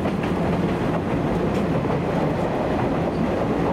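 A Japanese 185 series electric train rumbles steadily along the Ueno–Omiya line, a continuous loud roar of wheels and motors on the rails with no break.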